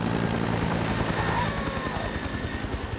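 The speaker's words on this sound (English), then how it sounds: "this helicopter just literally seemed like it was flying out of the mist" A helicopter flies close overhead through misty, snowy weather, its rotor making a loud, steady, rapid thumping over a dense engine roar that eases slightly toward the end.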